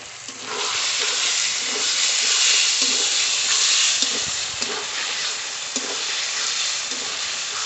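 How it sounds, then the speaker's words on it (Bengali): Dried red chili paste frying with chicken in a hot pan, a loud, steady sizzle and hiss throughout, with occasional soft scrapes of stirring close by. "এখন লঙ্কা বাটা দেবো শুকনো লঙ্কা বাটা"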